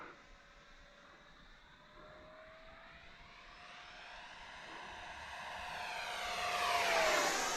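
A Freewing Vulcan 6s EDF model jet flies past the runway, its ducted-fan whine rising and swelling from faint to loud as it approaches, with a steady high tone bending in pitch during the pass.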